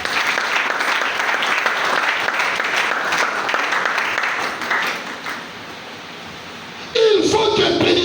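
A church congregation breaks into sustained, dense applause that fills the first five seconds, then thins and fades out, with a brief new burst of sound near the end.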